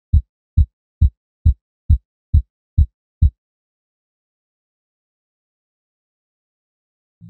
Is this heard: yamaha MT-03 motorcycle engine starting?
no